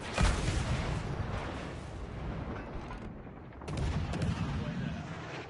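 Missile strike in World of Warships Legends: heavy rumbling game explosions and rapid gunfire crackle continuously, with a sharp boom at the start and a brief dip before the barrage resumes, loud and close.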